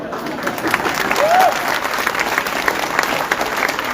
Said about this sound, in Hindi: तालियां क्यों हो जा रहे हो भाई?